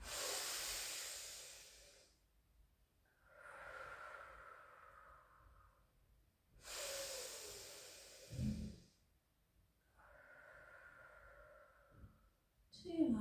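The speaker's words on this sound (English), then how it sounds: "Take a lovely in breath" Slow, deep breaths during a pilates exercise, each long airy inhale or exhale rising and fading in turn, about four breaths heard close and soft in an otherwise quiet room.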